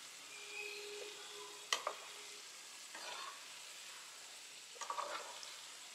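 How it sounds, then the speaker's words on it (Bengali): Batter fritters fry in hot oil with a faint, soft sizzle, broken by a few sharp utensil clinks and scrapes near the pan, quiet overall with no voices. "এবারে তেলটা রেডি হয়ে গেছে বড়াটাকে ভাজার জন্য"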